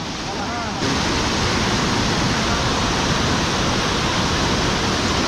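Sathodi waterfall near Yellapur in Karnataka, a dense, loud, steady roar of falling water that fills the scene continuously, louder after a brief softer opening.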